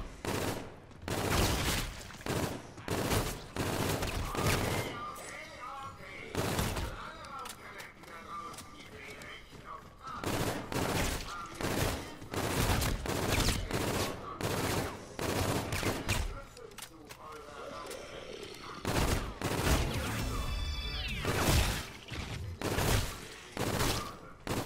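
Gunfire bursts in Call of Duty Infinite Warfare zombie mode, rapid automatic volleys in repeated clusters with short pauses, mixed with game effects while someone talks in German over it.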